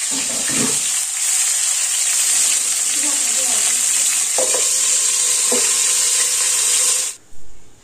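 Stuffed bitter gourds frying in oil in a kadhai give a loud, steady sizzle that runs nearly eight seconds, with a few short clatters from stirring, before the sound drops away at the very end.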